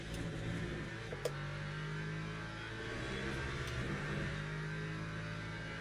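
A Porsche race car in the Le Mans Ultimate sim racing game, its engine revving and droning continuously at close range with shifting pitch.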